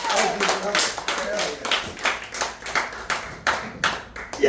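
Audience clapping hands at an open-mic style show, rhythmic unison claps in a steady beat, moderately loud, with voices mixed in.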